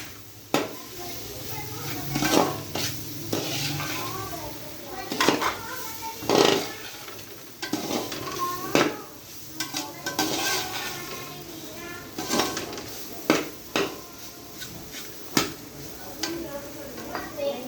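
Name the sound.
stirring khoya with milk, milk powder, sugar and semolina in pot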